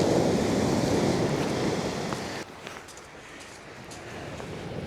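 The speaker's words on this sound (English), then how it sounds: "The waves are getting quite close." Surf washing onto a beach at night while sea fishing, a loud broadband rush of breaking waves that drops away sharply midway, leaving a softer wash and wind noise.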